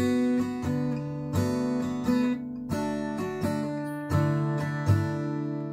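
An acoustic guitar strums a chord progression, steady down-strokes shifting between several chords, clear and close with no voices.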